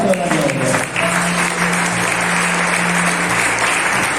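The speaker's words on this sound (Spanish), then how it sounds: "Fuerte aplauso al Cristo de la gloria." Church congregation applauding for a sustained stretch, steady dense clapping with a low sustained tone, likely an organ or keyboard, humming underneath.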